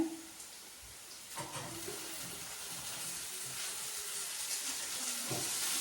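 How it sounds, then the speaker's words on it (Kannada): Chopped onions fry in a pan as tomatoes are added, giving a steady, moderately loud sizzling hiss with a few stirring scrapes and clinks, and no talking. "ಈರುಳ್ಳಿ ಚೆನ್ನಾಗಿ ಫ್ರೈ ಆಗಿದೆ ಇವಾಗ ಟೊಮೊಟೊನ ಹಾಕೋತಾ ಇದ್ದೀನಿ"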